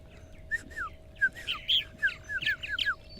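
Purple martins on eastern Long Island call from close range, a lively series of gurgling chirps and warbled whistles tumbling one after another over a quiet steady background hum, with no talking.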